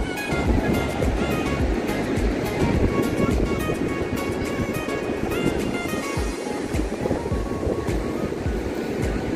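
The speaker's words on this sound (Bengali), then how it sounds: "আর এখানে কিন্তু ঢেউয়ের পরিমাণও যথেষ্ট বেশি" Sea waves break on Henry Island beach in strong wind, a loud, continuous wash of surf and roaring gusts with no pause.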